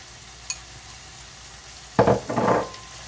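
Sliced carrot lands in a hot frying pan alongside vegetables for a ginger garlic shrimp dish, setting off a sudden loud sizzle after a quiet moment with a small earlier click.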